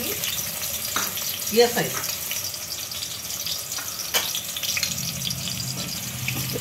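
Finely chopped medium onion frying in about 50 ml of oil in a pot, a steady sizzle with a few clinks and a brief voice over it.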